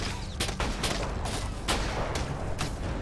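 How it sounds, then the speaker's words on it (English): Gunfire in Ghost Recon Advanced Warfighter 2 co-op combat, a steady barrage of overlapping shots and sharp cracks, loud and close, with irregular louder bursts punctuating the firefight. "People are shooting me."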